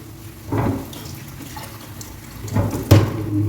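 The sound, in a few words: washing chicken pieces in water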